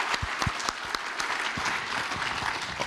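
Steady applause from an audience at an entrepreneurial fair, dense clapping with some sharper individual claps, holding at an even level throughout.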